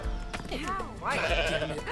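Goat bleating in the game Goat Simulator 3, two short wavering bleats heard fairly quietly over soft background game sound.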